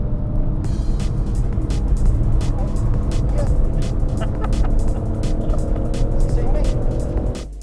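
A Ford Focus RS and a BMW M140i lap a race track flat out, their engines droning loud and continuous with rapid rhythmic pulses, steady throughout with a slight fade at the end.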